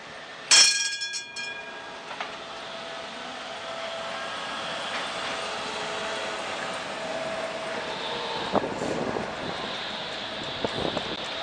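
A beer tram rolls through Brno with a steady, close rumble of wheels and car body. A sharp clatter comes near the start, then a constant rolling drone with faint squeals later on.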